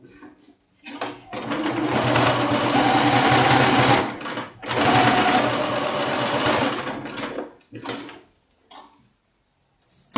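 A sewing machine stitches the seam of a baby toiletry bag in two long, steady runs of rapid whirring, close and loud, separated by a brief pause, followed by a few short bursts and quiet gaps.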